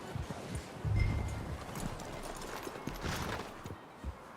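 Horse hooves clip-clop in Red Dead Redemption 2, a few soft, uneven steps in a wintry game world with a low background bed.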